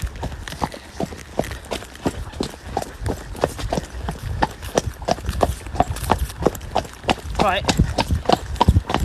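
Horse hooves beat in a quick, steady rhythm of close, loud thuds as a ridden horse moves along, while a rider speaks briefly over the footfalls.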